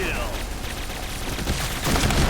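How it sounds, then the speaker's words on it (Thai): Rapid gunfire crackles in the online shooter Point Blank, a dense, continuous burst of shots close and loud throughout, with a few heavier bangs near the end. "เสียงปืนน่ารักดีนะ"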